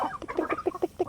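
A chicken clucks in quick, rhythmic bursts, close by, a rapid run of short clucks with no other sounds.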